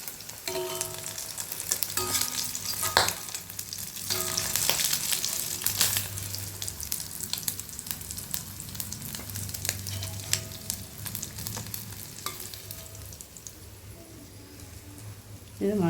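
Cashews sizzle and crackle in hot oil in a pan while being prepared for beef kabsa, a steady frying hiss with occasional stirring clatter running throughout.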